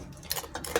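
A utensil stirs an egg snack in an air fryer basket, giving a few light, close clicks and taps in quick succession, with no talking.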